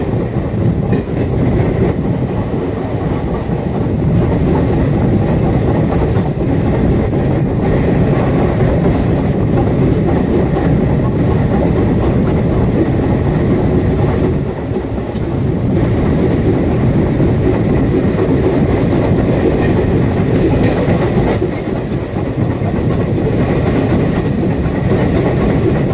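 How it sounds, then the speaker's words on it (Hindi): The 13072 Jamalpur-Howrah Super Express, running about thirty minutes late, rolls into Bardhaman Junction with a loud, continuous close-up rumble of carriages and faint rail clatter, no one speaking. "ट्रेन अपने निर्धारित समय से लगभग 30 मिनट डिले होकर पहुंच चुकी है बर्धमान जंक्शन।"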